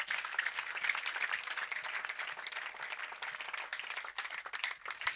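A church congregation claps in sustained, dense applause, a steady wash of many hands that stays loud and even throughout with no pauses.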